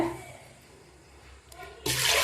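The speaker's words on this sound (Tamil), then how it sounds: "தண்ணி ஊற்றி" Water pours into a pressure cooker holding cut potatoes with a sudden loud, broadband rush in the last half second, after a quieter stretch of faint background noise.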